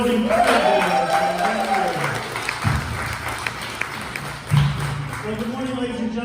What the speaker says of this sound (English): Let's have another round of applause for Megan.